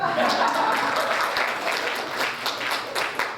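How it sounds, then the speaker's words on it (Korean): Korean-American community members applauding at an advisory council gathering in Atlanta, steady moderate clapping from a crowd, fairly distant and even throughout. "미주 한인 박수 한번 계속 쳐봐요"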